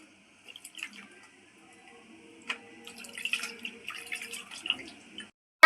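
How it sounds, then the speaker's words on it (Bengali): Tree-ripened Himsagar mangoes being washed in water: sparse, quiet splashes and drips come in short bursts with pauses between, then grow busier toward the end, and no one speaks. "আমগুলো এখন আমি খুব ভালো করে ধুয়ে নেব একদম গাছ পাকা আম"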